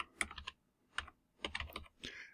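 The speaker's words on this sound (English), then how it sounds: "Now, what you need to do here is type ipconfig" Typing on a computer keyboard to enter a command, bursts of quick close clicks in short groups separated by brief pauses, no voices.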